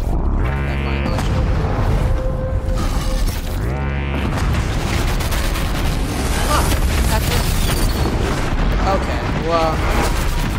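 Mine launcher blasts in Horizon Zero Dawn: The Frozen Wilds set off heavy, loud booms and rumbling explosions amid chaotic mechanical combat noise, with repeated impacts over a dense, continuous battle din.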